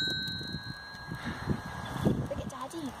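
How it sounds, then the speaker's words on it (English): A small bell rings with a sustained, slowly fading tone, heard under an adult talking to a young child indoors. "Look, ting this bell."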